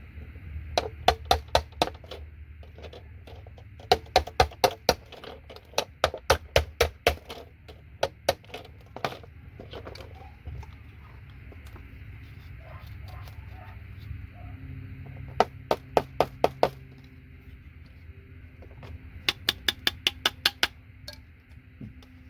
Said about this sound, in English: The rest of the chisel and hammer can do.